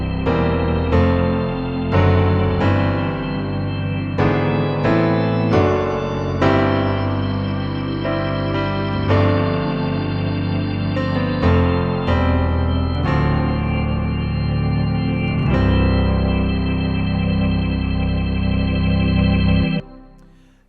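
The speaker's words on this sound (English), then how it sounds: "So I can just bring the organ up, so it just sits in the background of the piano and the synth." A Hammond SK Pro organ sits low beneath layered piano and synth, playing sustained full chords with repeated struck-note attacks for about twenty seconds before cutting off cleanly. No voices are present.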